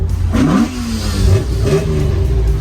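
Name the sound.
car engine revving through exhaust pipes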